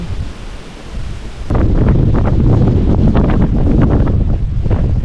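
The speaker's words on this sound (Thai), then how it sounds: "ลมแรงมากครับผม โคตรเย็นเลยทุกคน" Strong cold wind on a steep mountain trail up Phu Soi Dao, at first a softer rush, then suddenly gusting hard and buffeting the microphone in a loud, continuous roar.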